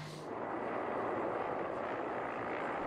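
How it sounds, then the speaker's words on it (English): A low helicopter carrying supplies roars steadily over a campsite on the Taimyr Peninsula, its deep rumbling engine and rotor noise filling the scene, loud and constant with no talking. "A helicopter bearing supplies and a few curious onlookers flies low over the campsite"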